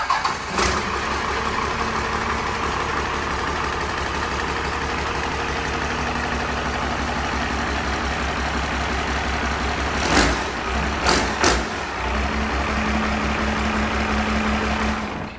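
Cummins diesel swapped into a 1965 Chevrolet C10, idling steadily with a deep, even rumble close by, broken by a few brief revs near the end before settling back to idle.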